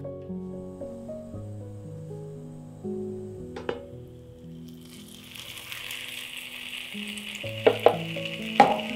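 French toast fries slowly in butter in a pan over low heat; a crackling sizzle builds after gentle background music fades, with a few sharp clicks near the end.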